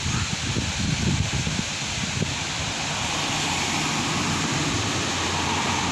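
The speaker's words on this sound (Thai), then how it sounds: "ลมอย่างแรงนะครับ" Strong wind blowing outdoors at Nong Makha on a cold day, a steady, loud broadband roar buffeting the microphone without letup.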